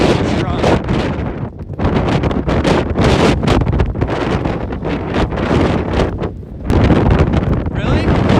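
Strong wind buffets the microphone on a lake during high winds and waves, a loud continuous roar with gusty surges, while people talk and exclaim over it.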